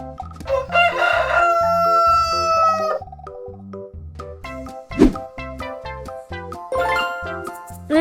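Farmyard rooster crowing loudly in one long drawn-out cock-a-doodle-doo, heard over cheerful children's music with jingling bell tones and a later shorter call.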